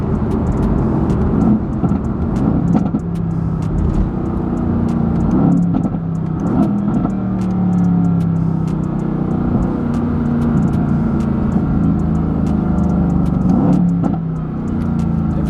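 A Mercedes-AMG GT S Edition One engine drones loudly and steadily throughout, with rough rumbling and occasional crackles, close by.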